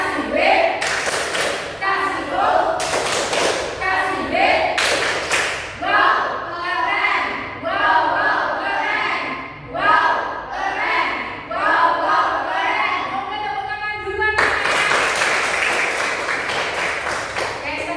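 A classroom of children stands and claps along in a rhythmic clap chant, loud bursts of clapping mixed with shouted call-and-response voices and a final cheer, the whole group close and lively.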